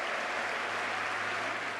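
Applause for Donald Trump in the US Congress, a continuous thick wash of clapping from a large chamber crowd, even and sustained throughout.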